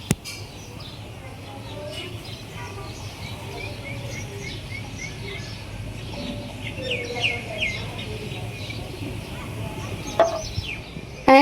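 Small birds chirp and tweet in scattered bursts against a calm, quiet background, soft and somewhat distant, with an occasional light knock partway through.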